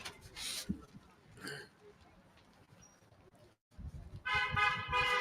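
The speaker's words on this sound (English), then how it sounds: "They honk for Homegrow." Car horns honk from passing traffic outside a roadside rally for Homegrow, with a short toot early on and a longer, louder blast near the end over street noise.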